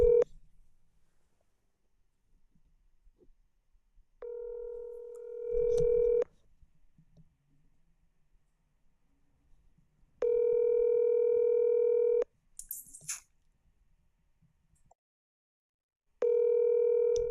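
A telephone ringback tone sounds in three separate two-second bursts spaced about four seconds apart, a steady electronic tone with near-silence between rings and a brief faint click or rustle in one gap.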